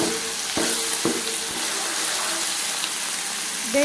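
Ingredients for homemade watermelon soap frying in oil, a loud continuous close sizzle with a few sharp clicks and pops, no talking.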